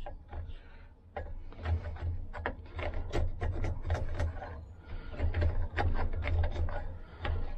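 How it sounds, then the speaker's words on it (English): A hook knife shaves out the bowl of a carved wooden spoon in a cold workspace, giving close, repeated scraping and rasping cuts in quick irregular strokes against a low steady hum. "been using the hook knife to shave out the spoon bowl"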